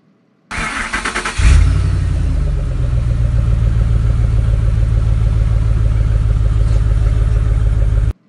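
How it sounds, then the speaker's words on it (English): A Lincoln MKZ car engine cranks briefly with a push-button start, catches with a rising rev, then settles into a steady, close, loud idle that runs on alone. "to start the Lincoln MKZ, you put your feet on the brake, and you press the start button"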